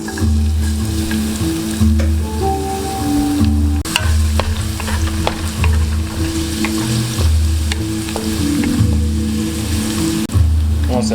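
Garlic sizzling loudly in hot oil in a pan, a dense steady crackle with sharp pops and occasional stirring clicks, close and continuous.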